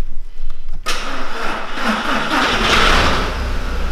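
A 1.8T engine in an Audi Quattro starts on a weak battery: a brief crank, then it catches and settles into a loud, steady run close by, with no voices.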